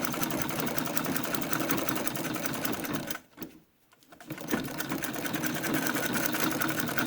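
A domestic treadle sewing machine stitches a fabric face mask with interfacing and florist wire, running as a steady, close rattling whir that cuts out briefly partway through, then starts again.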